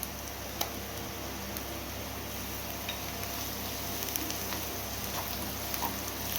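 Ginger garlic paste sizzles with onions in a pan for stuffed eggplant curry, a steady close crackling hiss with scattered small pops throughout, no voices.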